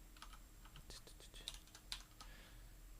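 Someone types on a computer keyboard, giving a quiet, uneven run of soft key clicks with a couple of sharper taps and a low steady background hum.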